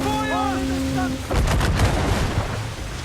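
Cannon fire erupts in Assassin's Creed IV Black Flag after a held tone and whistling effects give way to a loud, rumbling volley of several heavy booms in quick succession that roll on into a lingering low rumble.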